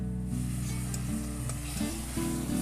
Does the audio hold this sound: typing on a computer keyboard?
no